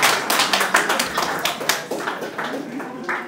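A small audience claps at a medical complex donation ceremony, with uneven, sharp individual claps in a loose rhythm, fairly close and loud, and some voices mixed in.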